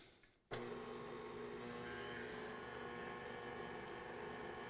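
An electric mixer starts abruptly and then runs with a steady, loud whir as it beats flour into cake batter, with no talking.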